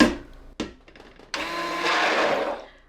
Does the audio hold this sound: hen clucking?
no